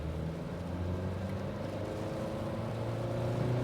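A Dacia Duster Hybrid accelerating hard under full throttle, a steady loud engine drone with harmonic tones that rise slightly over a few seconds, heard from inside the cabin with no talking.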